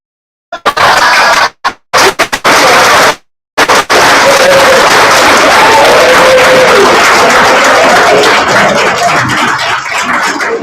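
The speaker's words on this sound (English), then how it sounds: "Another round of applause for Laura." An audience at a Halloween event applauds and cheers, loud, dense clapping that starts in broken bursts and then holds steady, filling the whole space.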